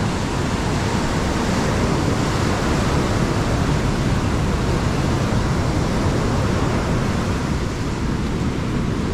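Storm waves pound a beach in Crimea as a dense, unbroken roar of surf and wind, loud and steady throughout with no voices.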